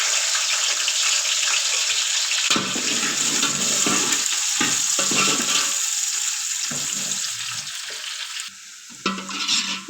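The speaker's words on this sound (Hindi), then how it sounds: "इस पॉइंट पर इसमें हम डाल देंगे 3 दरमियानी साइज़ के प्याज, और इनको लाइट ब्राउन कर लेना है।" Three medium onions frying in hot oil for chicken biryani, a steady loud sizzle with stirring scrapes throughout, close up and without talk.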